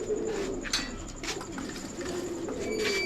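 Pigeons in a loft holding about a hundred birds coo in low, throaty murmurs, repeating close by with soft wing rustles and faint chirps mixed in.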